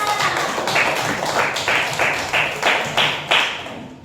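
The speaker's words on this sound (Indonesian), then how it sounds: "Kasih tepuk tangan untuk teman kalian, Nasita." Classroom applause for a student, a small group of pupils clapping in a steady patter with a few sharper claps standing out, fairly close and loud, with faint voices mixed in.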